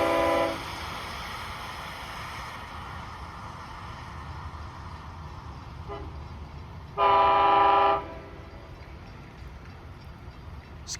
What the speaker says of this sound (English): It's actually 660 is arriving a little early tonight.